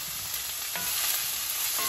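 A big diced white onion frying as the first step of Filipino chicken sisig, producing a bright, continuous sizzle with a few soft stirring scrapes, close and steady, no voices.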